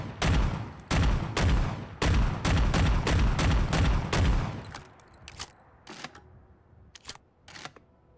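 Loud, rapid bursts of close gunfire from a modded gun in Fallout 4, heard in third person, fire in quick heavy volleys before giving way to sparser single cracks and mechanical clicks.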